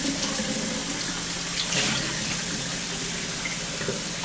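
Stainless steel tumbling media rinsed in a sink under running water, a steady close gush of tap flow splashing over the metal pins for several seconds with no talking.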